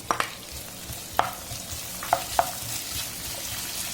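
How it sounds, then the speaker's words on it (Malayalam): Capsicum and square-cut onion stir-fry in a pan for veg Manchurian: a steady sizzle broken by a few sharp clacks of a spatula against the pan, with no talking. "ഇനി ക്യാപ്സിക്കം ഇടാം."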